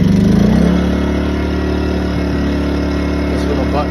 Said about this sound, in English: If it's a cold start, you want to pull the choke and give her a run.